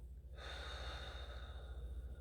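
A single slow, deep exhalation, soft and close, a steady airy breath that swells and then holds with no talking over it, during a guided breathing session.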